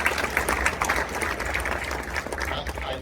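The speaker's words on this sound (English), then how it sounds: "Let's give them another round of applause." Applause from the audience at a county candidates forum, a fairly faint, diffuse patter of clapping spread across the room, with low background rumble and a steady, even level throughout.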